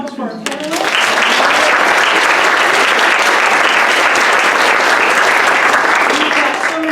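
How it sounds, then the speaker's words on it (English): Conference audience applauding panelists after a discussion, a loud sustained wash of clapping that swells in quickly and carries on steadily for several seconds. "Please, a round of applause for our panelists."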